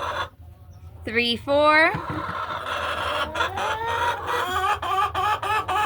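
Backyard chickens cluck and squawk repeatedly inside a coop around a nesting box, close and fairly loud, while a person counts aloud over them.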